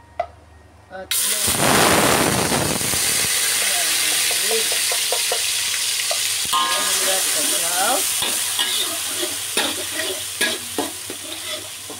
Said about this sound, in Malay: Okey kawan-kawan, kita boleh tumis ya.